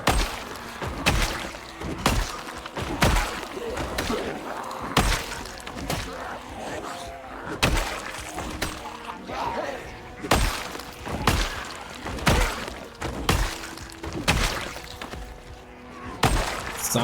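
A zombie in Project Zomboid bashing through glass: repeated heavy thuds and sharp shattering hits at a steady, slightly uneven pace, fairly close, with no talking over it.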